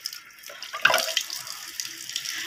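Tap water runs steadily from a faucet into a basin, a close, continuous splashing hiss that swells briefly near the start and carries on alone without talk.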